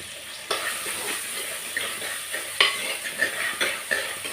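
Onions with rock salt sautéing in a pan for fish kuzhambu: a constant hissing sizzle broken by several spatula scrapes and knocks at irregular intervals, close by, no talking.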